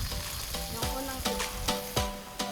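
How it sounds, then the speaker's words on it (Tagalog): First-press coconut milk is poured into octopus adobo cooking in a pan, and the pot sizzles and bubbles steadily with a few soft stirring knocks; no talking. "Ilalagay ang unang piga ng gata"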